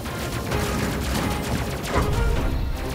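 Spaceship weapons fire in a space combat game, dense crackling blasts and rumbling impacts packed closely together over about three seconds, loud and continuous.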